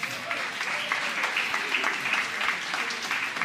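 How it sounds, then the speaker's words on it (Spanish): An audience in a church gathering breaks into steady, moderately loud applause, a dense patter of clapping hands that continues evenly throughout. "un aplauso para Wendy."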